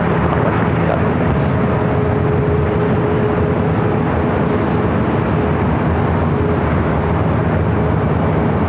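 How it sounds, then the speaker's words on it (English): MSC Air Cargo Boeing 777 freighter rolling for takeoff on runway 25 left at LAX, a loud, continuous broadband jet engine roar that holds steady and unbroken throughout. "We do have that MSC Air Cargo 777 freighter now rolling down at 25 left on the south side."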